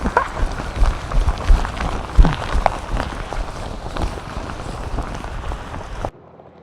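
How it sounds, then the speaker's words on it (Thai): Heavy rain falls in a rural Thai-Lao area with fog around, a dense steady patter with scattered louder drops close by, ending abruptly. "ตอนนี้บรรยากาศฝนกำลังตกพี่น้อง"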